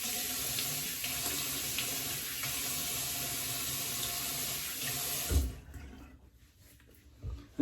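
Water runs steadily from a tap as a shave bowl and brush are rinsed, a close hissing splash that stops abruptly, followed by a few light knocks and clunks.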